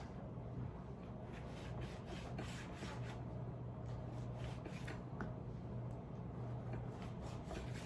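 A knife cuts bacon strips into lardons on a board, a series of quick rhythmic rubbing, scraping strokes close up with no talking.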